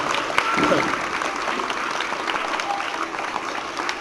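A crowd at a National Teachers' Day ceremony claps for its teachers, dense loud applause that peaks early and then tapers off, with voices talking over it.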